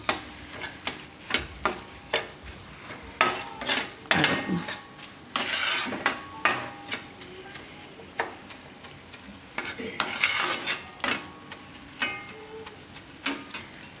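Gram flour being stirred in hot oil in a pan for a Gujarati besan capsicum shaak: a steady soft sizzle with repeated scraping, clinking spoon strokes against the pan, close and fairly quiet.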